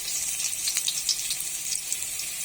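Garlic frying in oil previously used to fry fish, a bright continuous close sizzle with crackling pops throughout, cutting off abruptly at the end.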